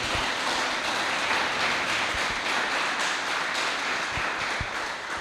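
A church congregation claps together for the Lord during an evening revival campaign service, a dense, steady wash of applause that fills the room from start to finish without a break.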